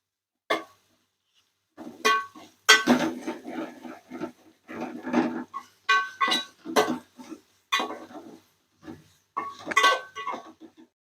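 Tomatoes being stirred and sautéed in a pan for Tamil mutton kuzhambu, with a spoon scraping and clinking against the metal pan in a series of short bursts separated by pauses.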